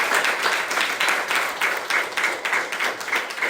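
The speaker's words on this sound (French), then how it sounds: "Applaudissons pour glorifier notre Seigneur." A church congregation claps together in steady, dense applause, loud and close, with rhythmic bursts running throughout and no talk over it.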